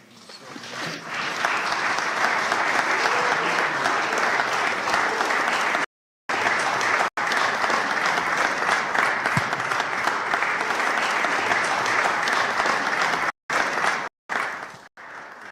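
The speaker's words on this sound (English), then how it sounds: "Give her a wonderful hand clap." A conference audience at an interfaith gathering breaks into loud, sustained applause that rolls on steadily, cut by a few brief gaps and easing off near the end.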